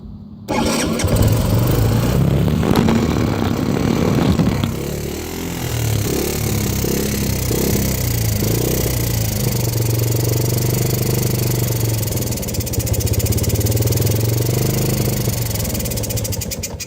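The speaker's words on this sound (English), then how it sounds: "So it doesn't run like that, so let's put the choke on." A 1985 Yamaha Moto 4 80cc ATV starts and runs with the choke on, its small engine buzzing loudly and steadily, the revs dipping and picking up again.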